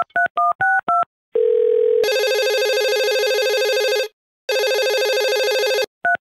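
Telephone tones during a phone call: a few short dialing beeps, then a steady tone and two long loud ringback bursts with a gap, ending with a brief beep; no talking.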